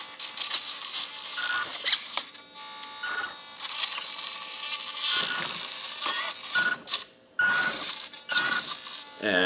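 The small electric motors of an RC Bruder telescopic handler conversion whine as its boom lifts, in high-pitched bursts that start and stop with short pauses between them, close up.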